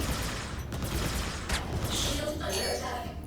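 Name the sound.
ship cannon rounds firing in Star Citizen video game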